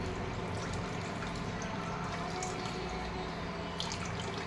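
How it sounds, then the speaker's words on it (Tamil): Thick coconut milk is strained and poured into a vessel, giving a steady, close trickle of liquid with faint drips. "இந்த தேங்காய் பால் நம்ம வடிகட்டி எடுத்துக்கலாம்"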